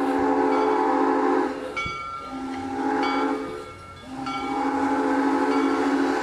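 A train rumbles past with a loud, sustained horn blaring repeatedly, fading briefly in the middle before sounding again.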